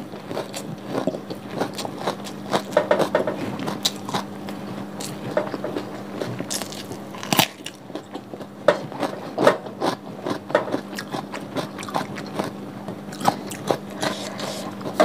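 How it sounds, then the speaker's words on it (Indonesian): Close, crunchy chewing and biting of fried nasi tiwul eaten with raw shallots, with steady irregular mouth sounds and small clicks over a faint background hum, no talking. "Mukbang nasi tiwul Jawa."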